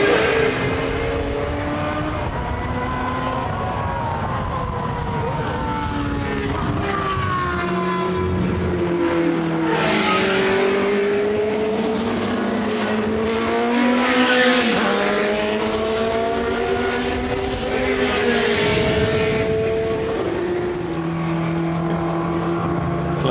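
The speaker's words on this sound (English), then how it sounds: "the best noise comes from the two going through the chicane now, the Alfa Romeo, but best of all, the car in front, that Matra" Period 3-litre World Championship sports prototype race cars, an Alfa Romeo followed closely by a Matra, scream loudly through a chicane at Goodwood, engines rising and falling in pitch as they brake, downshift and accelerate away, with a voice faintly underneath.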